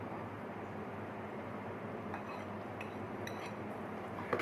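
A spoon stirs garam masala, black pepper and ajwain into an egg and chickpea curry in a pot, giving a steady close sizzle with a few faint, scattered metallic clinks.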